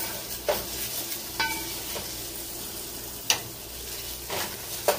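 Potato stew stirred in a saucepan: a soft sizzle and bubbling bed with a few light scraping clicks of the spoon at intervals, close and quiet, no talking.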